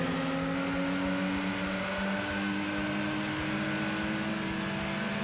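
A turbocharged car engine in Gran Turismo 2 gives a steady mechanical drone with sustained tonal whine, continuous and fairly loud, with a faint rising rev near the end.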